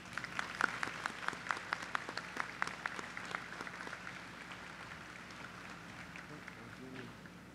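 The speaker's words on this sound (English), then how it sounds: "And how about a round of applause for all of our awardees today?" A graduate commencement audience at Neumann University claps in a dense, distant burst of applause that gradually thins and fades to a quieter spattering.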